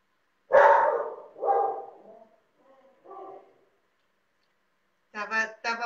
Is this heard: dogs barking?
yes